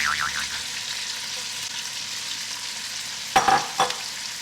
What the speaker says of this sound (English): I'm going to add the butter right into the bacon, and next go celery and my onion